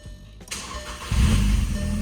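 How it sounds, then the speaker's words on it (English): A diesel truck engine cranks briefly and then fires, catching after repair work and settling into a loud, steady rumble close by that lasts to the end. "I've been cranking on this thing and it hasn't fired yet. So I'm just gonna keep cranking."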